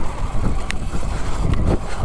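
A Sur Ron LBX electric motorbike (2020) climbing a short slope outdoors, heard as a muffled rumbling whir buffeted by wind noise against the microphone, with a couple of brief sharp clicks.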